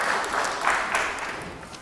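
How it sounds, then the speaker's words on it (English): Children at a church service receive a round of applause: a continuous, even patter of many hands clapping, moderately quiet and fairly distant, with no speech on top. "Give them a round of applause"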